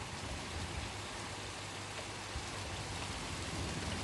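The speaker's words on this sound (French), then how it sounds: "Pour une fois, on a un bel orage devant nous." Night thunderstorm rain in Gard, France, heard as a faint, constant wash of rainfall hiss with no distinct thunder claps and no voices.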